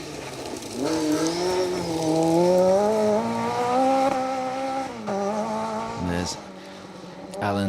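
Rear-wheel drive Peugeot 306 rally car on a stage, engine rising and holding a steady high revving note as it passes fairly close, then fading, with a voice talking over it.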